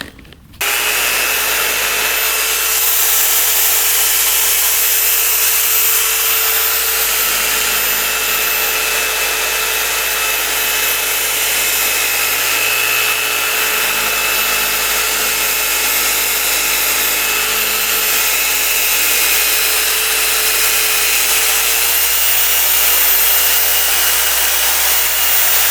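Steady, continuous whir of a rotary polisher working V32 extreme compound over a scratched headlight lens, loud and unbroken for the whole stretch with no talking.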